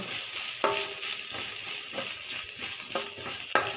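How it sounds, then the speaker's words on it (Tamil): Masala with garam masala powder sautés in a pan for a chicken liver fry, a close, steady sizzle with occasional sharp scrapes and taps of the spoon against the pan. "கரம் மசாலா தூள் சேர்த்துக்கோங்க வதக்கி விட்டுடுங்க"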